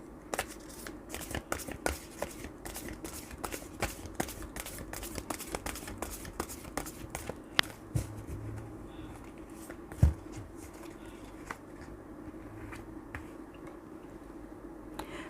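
Tarot cards shuffled by hand during a Thai astrology reading, a steady run of crisp riffling clicks and soft slaps repeating for the whole stretch, close and fairly quiet, with no talk over it.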